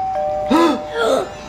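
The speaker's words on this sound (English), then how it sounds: "Is that the doorbell?" A two-tone doorbell chime rings twice in a home during a toy egg unboxing, clear and fairly close with a faint steady hum beneath.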